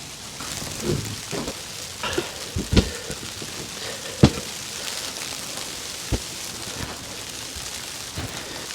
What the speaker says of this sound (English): We have a snow, rain, and sleet mix